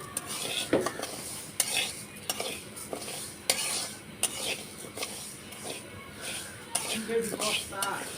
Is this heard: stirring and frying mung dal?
yes